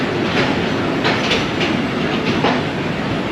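The Ravi Express passenger train rolls along its rails between Lahore and Nankana, heard from inside the carriage as a constant loud rumble with faint rhythmic wheel clacks.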